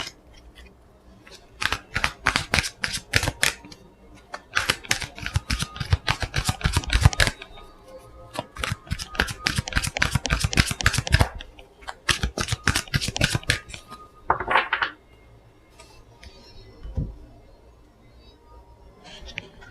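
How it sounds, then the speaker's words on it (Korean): Tarot advice cards being shuffled and drawn: repeated bursts of crisp card riffling and flicking, close and fairly loud, in quick clusters with short pauses and a few softer slides between them. "여러분을 위한 조언 카드 뽑아보고 리딩 마칠게요"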